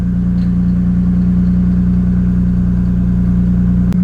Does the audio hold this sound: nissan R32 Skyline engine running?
yes